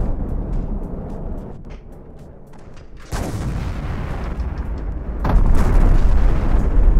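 Cluster bomb explosions blast apart turrets in the naval combat game From the Depths: two heavy, rumbling booms arrive a couple of seconds apart, each jumping in loudness over a low, continuous background roar.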